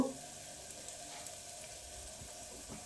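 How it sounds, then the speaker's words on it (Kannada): Tomatoes frying with ginger garlic paste and garam masala, a faint, steady sizzle that carries evenly throughout with no one talking. "ಇದು ಟೊಮೆಟೊ ಎಲ್ಲ ಚೆನ್ನಾಗಿ ಫ್ರೈ ಆಗಿದೆ"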